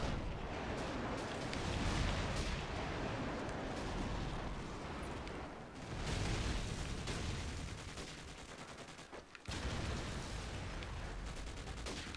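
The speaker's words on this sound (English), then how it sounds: "Friendly airstrike on the way." Airstrike explosions in Call of Duty 4, a continuous roaring barrage of blasts and rumbling impacts with crackling gunfire layered over it, loud and dense throughout with brief dips between waves.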